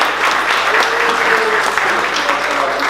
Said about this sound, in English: Give an applause to our guest.